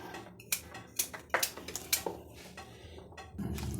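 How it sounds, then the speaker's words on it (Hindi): A knife chops carrots into small pieces on a board for carrot halwa, a run of sharp, close taps in uneven rhythm, followed by a brief rustle; no talking. "इसी तरह काट के बनाते हैं।"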